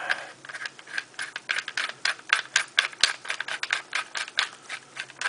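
An airsoft metal barrel nut is twisted by hand onto a cheap metal receiver during an outer barrel install, giving dense rapid ratcheting clicks and grinding thread noise, close and steady with no speech.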